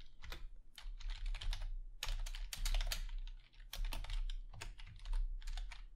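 Code being typed on a computer keyboard in an ASP.NET Core programming session, rapid clustered keystrokes in bursts with brief pauses, close and clear over a low hum.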